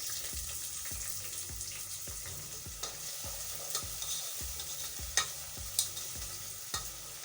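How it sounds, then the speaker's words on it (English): Small chopped onions cook in a pan for spaghetti, a soft sizzle beneath a regular series of low scraping stirs and a few sharper utensil taps, quiet and close with no talk. "you remember those onions that I chopped in small pieces? Yeah, so these ones are for using in spaghetti. So I'm going to add that."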